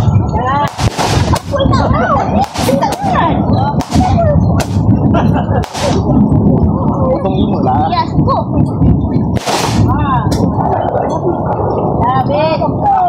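Firecrackers exploding at a Ramadan gathering in Bukit Lunchu, Bandar Seri Alam, sharp loud bangs going off at irregular intervals, with people talking and calling out throughout.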